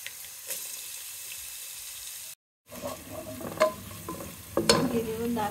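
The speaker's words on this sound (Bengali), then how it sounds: "তেল গরম হয়ে গেছে, এটার মধ্যে এখন পেঁয়াজ দিয়ে দিই।" Onions drop into hot oil in a pot on the stove and sizzle close by, with stirring noises; there is a brief silent break midway before the sizzling resumes more strongly.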